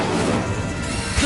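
Incendio fire spell cast in a wizard-school video game on PS5, a dense crashing burst of flame and impact noise filling the whole short moment without pause, loud and close amid game combat.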